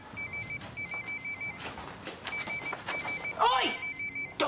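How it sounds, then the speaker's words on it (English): A telephone rings in repeated electronic double bursts at a steady rhythm, fairly faint and in the background, while a voice speaks briefly partway through. "Rebecca, phone."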